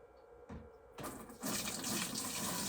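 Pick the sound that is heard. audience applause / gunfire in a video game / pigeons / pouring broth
pouring broth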